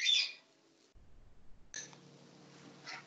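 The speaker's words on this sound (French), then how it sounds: "mes oiseaux font beaucoup de bruit" Pet birds chirping indoors: a sharp burst of high chirps at the start, a quiet gap, then softer twittering returning over low room noise.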